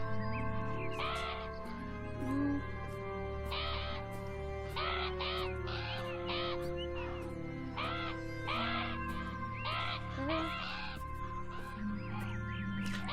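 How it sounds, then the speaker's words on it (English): Crows caw repeatedly in the garden of the video game Beyond Eyes, harsh calls in uneven bursts over a sustained musical tone and low ambient hum, fairly close and prominent. "Don't think she likes the crows very much."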